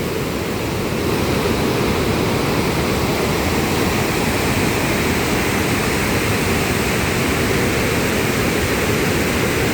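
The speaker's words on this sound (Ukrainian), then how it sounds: "Тони води, які стікають з гір, омивають такі гірські брили каменів." Steady, loud roar of mountain rapids at the Probiy waterfall in Yaremche, a dense continuous wash with no pauses or voices, water tumbling over boulders close by.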